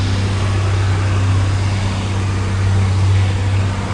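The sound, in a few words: John Deere 4440 tractor driving down the road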